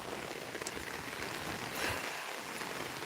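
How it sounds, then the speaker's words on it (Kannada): Heavy rain pours steadily outdoors in the countryside, a dense, even hiss of drops on surfaces that fills the whole moment, close and continuous with no talking over it. "ಮಳೆ ಬರ್ತುಂಟು ಗೈಸ್, ಫುಲ್ಲು"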